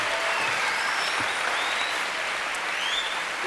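Steady applause from a French television studio audience fills the whole stretch, a dense even wash of clapping at constant loudness with no voices standing out.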